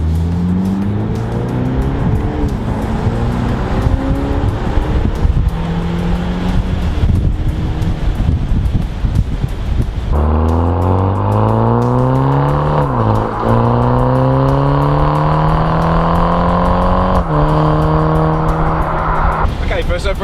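Wind roars and buffets steadily around an open-top 2019 BMW Z4 with a 2-litre engine and a wind deflector fitted. The engine drones beneath it and rises through rising revs as the car accelerates, loud and continuous.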